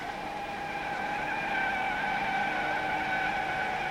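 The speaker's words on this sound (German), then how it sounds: "Auf der sogenannten Rutschplatte der Versuchsbahn testen wir das Eigenlenkverhalten des Wagens und die Reifen." A Mercedes-Benz W108 (250S/250SE) skids in circles on a test-track skid pad, giving a steady, sustained tire squeal over engine noise that grows slightly louder partway through, with no talking.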